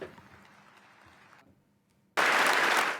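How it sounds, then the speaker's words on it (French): Applause erupts suddenly after a quiet stretch, a dense wash of clapping from a crowd that stays loud until the end, during Joe Biden's official visit to Canada. "Des applaudissements à tout rompre."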